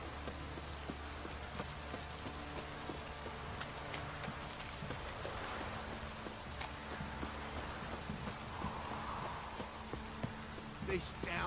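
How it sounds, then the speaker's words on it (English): A heavy downpour hisses steadily in The Witcher 3, the rain a constant soft wash beneath someone talking throughout. "This downpour's a bastard,"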